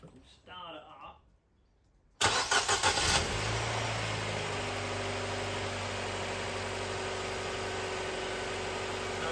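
A Nissan Qashqai engine cranking and catching after a brief voice, flaring up loud for a moment before settling into a steady, even idle close by.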